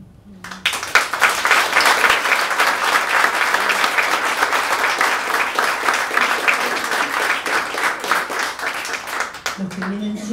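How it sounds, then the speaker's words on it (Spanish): Audience at a poetry recital in Pista Urbana, a music venue, breaking into sustained applause that rises quickly, holds strong and dense for several seconds, then tapers as a voice begins speaking. "estos primeros aplausos son para los poetas"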